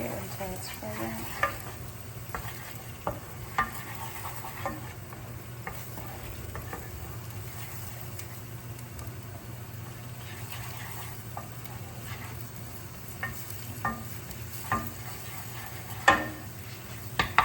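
Garlic and shallots fry in a pan for a Hong Kong style beef curry, giving a steady, soft sizzle with a few light clicks from stirring and utensils and no talk.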